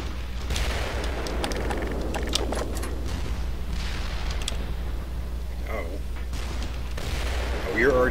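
Gunfire and heavy tank cannon shots booming in the video game Black Mesa, a dense stream of repeated blasts and bursts over a low rumble, with a voice talking over parts of it.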